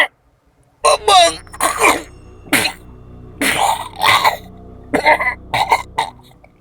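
Repeated harsh coughing fits from a woman in a dramatized Malay horror story, coming in several bursts of rasping, throaty coughs separated by short pauses.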